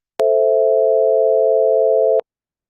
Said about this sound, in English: And then we'll create a sine minor chord